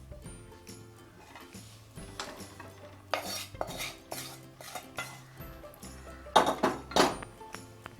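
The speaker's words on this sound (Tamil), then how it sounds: "இப்போது நம்ம பண்ண கிரேவி பொட்டேட்டோ எல்லாத்தையும் சேர்த்து நல்லா ஒன்றா மிக்ஸ் பண்ணிடலாம்." Fried potatoes being stirred into biryani gravy in a pot, with close spoon scrapes and clinks against the metal in irregular bursts over a faint sizzle, louder toward the end.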